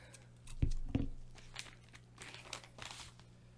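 Paper crinkles and rustles close by as scissors cut open an envelope, with a couple of sharp snipping clicks followed by softer crumpling and tearing sounds.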